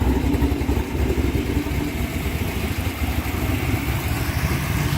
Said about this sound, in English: This is a pretty warm idle. It's a good chopping cam.